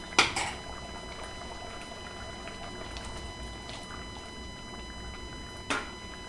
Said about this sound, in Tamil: இப்போ இது ஒரு 5 நிமிஷம் அப்படியே கொதிக்கட்டும்,